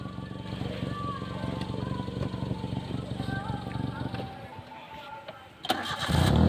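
A training car at a motor driving school idles with a steady low hum, dips quiet briefly, then surges into a louder rumble as it gets going for reverse-gear practice, with voices faintly present.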